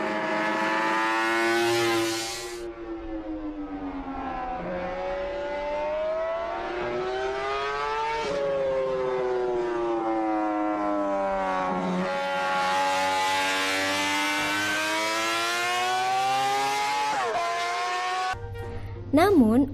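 A 1966 Honda RC166 250cc four-stroke racing motorcycle screams at high revs, the engine note rising and falling through gear changes in long sustained howls, loud and close, with a brief clatter at the end.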